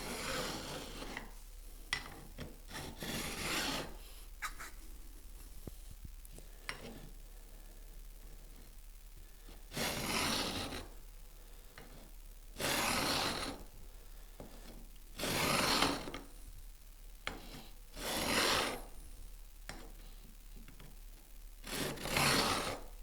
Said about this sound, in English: you run the chamfered edge along the frets, and that will keep the file at the correct angle for just putting the chamfer on the edge